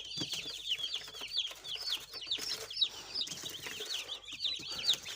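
Young Agric chicks in a brooding cage cheep and cluck in a busy, continuous chorus of short high peeps, close by, with occasional soft wing flutters and no talking.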